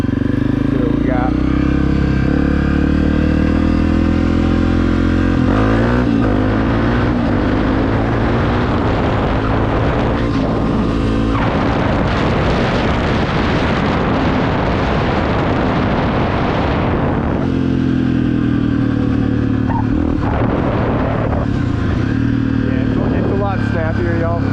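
A Honda CRF250F dirt bike tuned with an EJK controller is ridden hard nearby, its engine roaring and surging through repeated throttle openings and shifts, with wind buffeting and an occasional backfire pop.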